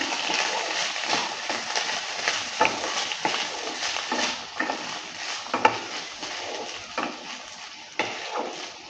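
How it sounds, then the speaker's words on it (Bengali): Gobindobhog rice stirred in a cooking pot, with repeated scraping and clinking of a utensil against the metal and a light sizzle underneath, moderately close and irregular in rhythm. "চালটা দেওয়ার পর ভালো করে আবারও নেড়ে নিচ্ছে"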